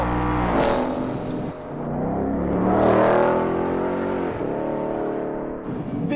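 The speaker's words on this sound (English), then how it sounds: "one full throttle blast" A 2018 Ford Mustang's 5-litre engine at full throttle, a loud, sustained roar that rises steadily in pitch with each gear, dipping briefly at shifts before pulling hard again, close and without any talk.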